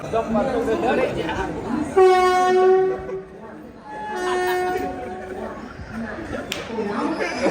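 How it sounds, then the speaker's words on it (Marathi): A local train pulls into a station, its horn sounding in two long blasts over the rumble of the cars, while people chatter nearby on the platform. "हा ट्रेन आली लोकल ट्रेन आली"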